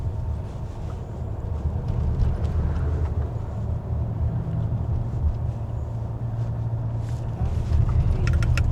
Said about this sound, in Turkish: Bir sürü tır geçiyor.